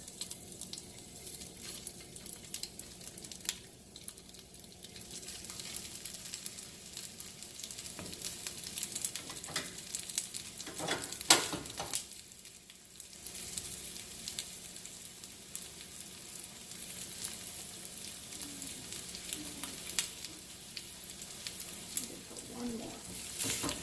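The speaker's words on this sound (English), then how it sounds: "I'm just going to start placing my pancakes right in the pan" Korean pancakes sizzle steadily in a preheated pan, a continuous broadband frying hiss with brief louder spatters and occasional background voice.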